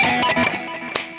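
Electric guitar on the bottom neck of a double-neck instrument plays a short generic riff, a quick run of bright plucked notes with a sharper accented hit near the end, alone and fairly loud.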